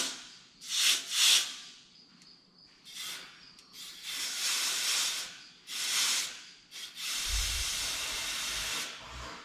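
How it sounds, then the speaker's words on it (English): Compressed air hisses through the tank of a 1975 Chevrolet C20 Scottsdale truck in several loud bursts with short gaps, then a longer steady blast, with a low thump near the end. "Let's put some compressed air through there and see which side it blows out"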